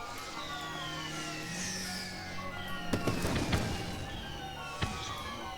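Fireworks explode in the Spider-Man Noir level of Spider-Man: Shattered Dimensions, with a sharp burst crackling near the middle and another later, set against sustained carousel-like music and ambient game tones.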